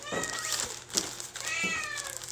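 A cat meows several times in a row, the calls close and fairly clear, drawn out with rising and falling pitch over a quiet room.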